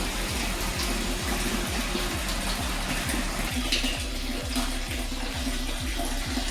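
RO-filtered water gushes and splashes steadily into a product tank, a continuous rushing flow with a low rhythmic churning underneath.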